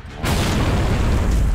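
Frag grenade blast in Gears of War 2, a loud sudden boom after a brief quiet moment, followed by a sustained heavy rumbling roar that fills the rest of the moment up close.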